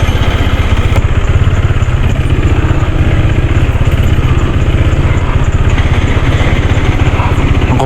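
A motorcycle engine runs loudly and steadily at close range on a slippery mountain road in the Cordillera, Philippines, with a rough, rapid chugging throb and no talking.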